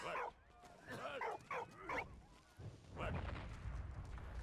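Dog barking in the Valiant Hearts video game, a short run of yips and barks that gives way to a rougher, noisier stretch, faint and fairly close.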